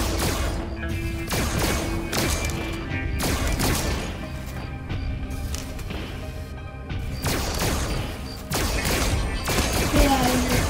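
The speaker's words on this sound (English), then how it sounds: "We can finally shoot Plush Baby" Rapid bursts of gunfire in the video game FNAF Help Wanted 2, dense repeated shots and crashes running almost continuously, loud and close.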